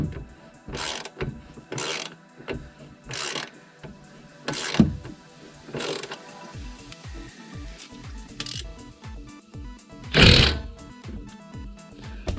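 Nut and bolt being tightened with a ratchet on a Nissan rear strut assembly, repeated clicking ratchet strokes in short bursts close by, with occasional metallic creaks and a louder clunk near the end.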